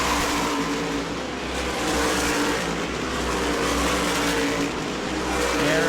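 Race cars roar around New Smyrna Speedway during World Series racing, a dense, steady engine drone from several cars packed close together, loud and continuous with slight swells as they pass.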